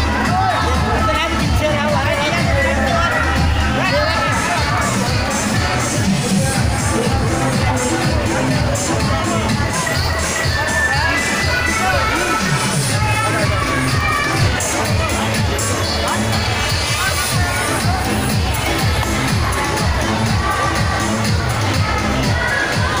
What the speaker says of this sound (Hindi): प्रसाद पाने के लिए बहुत भीड़ लगी हुई है